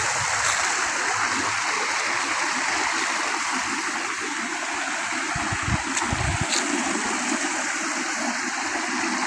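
Steady rushing water of a twin waterfall and stream in Dan Sai, Thailand, a constant broadband roar with a few low thuds, no voices.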